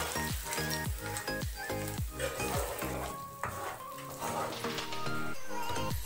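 Pea dal paste sizzling in a hot pan as it is stirred for a paneer dish, with steady frying crackle, scraping strokes and a repeated tonal clink, alongside background sounds and a dog-like whimper.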